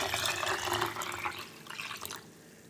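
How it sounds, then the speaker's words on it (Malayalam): Water is poured into a bowl for a yeast-raised dough, a splashing, trickling stream lasting about two seconds before tapering off into quiet, with no talking. "അപ്പോൾ ഞാൻ വെള്ളം ഒഴിക്കുകയാണ്."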